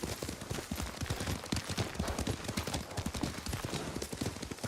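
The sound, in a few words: horse hooves while riding, from video game Ghost of Tsushima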